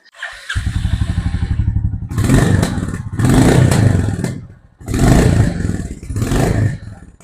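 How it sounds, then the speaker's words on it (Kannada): Royal Enfield Goan Classic 350 motorcycle with a slash-cut exhaust: a close, loud thumping idle followed by three throaty revs that rise and fall with brief dips between, no talk. "ಸೊ ಕೇಳಿದ್ರಲ್ಲ ನನಗಂತೂ ಯಾಕೋ ಇದು ಒಂಥರ ಯೂನಿಕ್ ಆಗಿರೋ ಎಕ್ಸಾಸ್ಟ್ ನೋಟ್ ಅನಿಸ್ತು"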